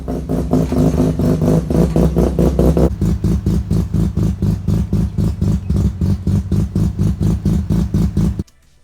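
A restored Mazda RX 323 runs with a new muffler and small turn-down pipe, a loud, close engine throbbing in quick regular pulses that ease slightly partway through before cutting off abruptly near the end.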